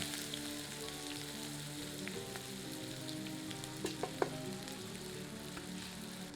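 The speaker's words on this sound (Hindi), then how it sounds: "आंच मध्यम करके प्याज को धैर्यपूर्वक भूनते हैं जब तक कि यह सुनहरे रंग की नहीं हो जाती।" Onions frying in oil in a pan over medium heat for a dry mushroom curry: a steady close crackling sizzle with scattered pops and a few sharper spatters, no voices.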